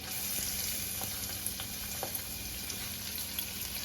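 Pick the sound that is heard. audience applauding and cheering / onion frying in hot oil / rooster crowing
onion frying in hot oil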